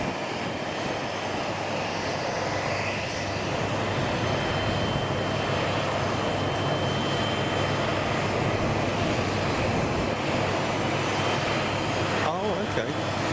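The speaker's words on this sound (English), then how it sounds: "Live to the world, Boeing 777X" A Boeing 777X arriving at King County International Airport, Boeing Field, gives off a loud, continuous jet engine roar that stays strong and steady throughout, with a slight shift in tone near the end.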